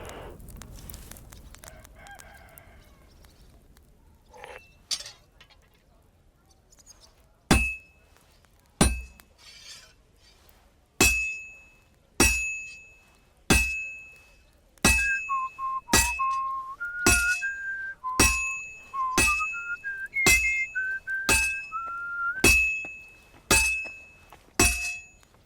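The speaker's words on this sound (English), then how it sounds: "I'm just banging it with a hammer." Hammer blows ring out on metal at a blacksmith's forge in Kingdom Come: Deliverance 2, a steady series of loud, sharp clanging strikes about one per second, with a whistled tune running beneath the later blows.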